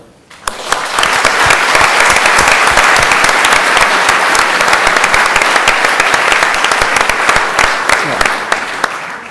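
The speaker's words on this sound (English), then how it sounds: "I would like to thank, with a warm round of applause, the Rode Hoed here, and Aminata Kone" Dense, loud applause from a lecture audience fills the hall at the close of a talk on ISIS and the Middle East balance of power, steady and sustained throughout.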